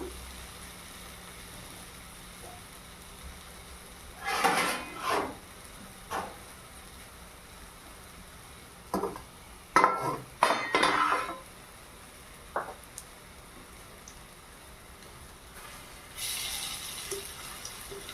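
Jackfruit kofta balls fry in a pan and are turned over with a utensil, making occasional clatters and scrapes against the pan over a quiet, low fry. The sound is close, with gaps between the knocks.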